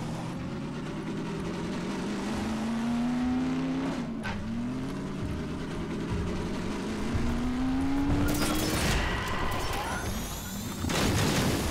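Vehicle driving in Half-Life 2 Episode 2: a steady, loud engine drone with rising pitch as it accelerates, a sharp crash knock near four seconds, and a harsh burst of scraping and impact noise toward the end.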